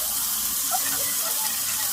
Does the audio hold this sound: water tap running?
no